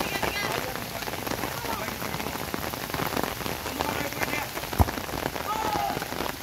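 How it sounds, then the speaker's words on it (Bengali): Heavy downpour drumming steadily on surfaces during a children's outdoor football game, a dense close hiss of rain with scattered drops and a brief knock, faint voices mixed in. "আবার মুষলধারে বৃষ্টি"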